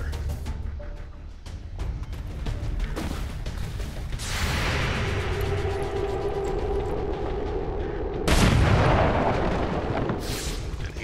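Gunfire and explosions in the XCOM tactical video game, booming blasts and heavy bursts layered over a dense battle mix, loud and close, with a sharp new burst partway through and no talk.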